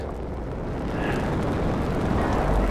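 Phaser fire bursting open vents in the Star Trek video game: a dense, steady roar of blasts and rumbling debris, loud and close, with low booms swelling toward the end.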